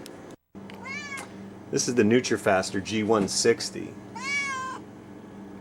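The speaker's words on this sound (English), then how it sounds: "and that's my cat." A pet cat meows near a greenhouse juicing demonstration, two drawn-out, wavering meows bracketing a man's speech, the first before he talks and the second as he finishes.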